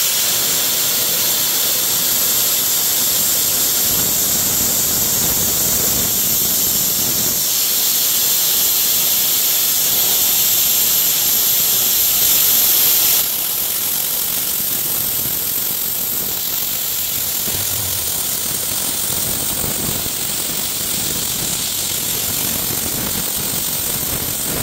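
An Arccaptain Cut55LED 55 amp plasma cutter cuts through 1-inch steel plate with a loud, constant roaring hiss like rushing air, close and unbroken the whole time, shifting slightly in tone partway through, with no talking.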